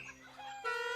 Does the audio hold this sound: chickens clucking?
yes